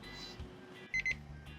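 A brewing timer beeps in two short, quiet electronic bursts in a kitchen during a sour beer brew, set against low background hum.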